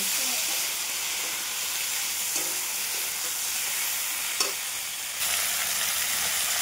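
Ground spices, turmeric and chilli powder, sizzle and hiss in a hot pan while being stirred, a steady frying crackle with a few scraping clicks of the spoon, close and continuous.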